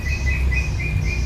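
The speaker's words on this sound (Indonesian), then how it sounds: "pembawaan lagu dari cucak hijau, ada sekali tarikan, ada 2 sampai 3" A green leafbird (cucak ijo) sings at a songbird competition judging, giving a steady run of high repeated whistled phrases over a constant low background hum.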